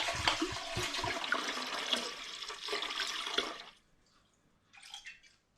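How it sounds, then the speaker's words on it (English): Tomato paste wash pours into the drum of an Air Still Pro, a loud continuous splashing gush that stops abruptly, followed by a short trickle and a faint drip. "I'm just going to tip my tomato paste wash into the drum of the Air Still Pro"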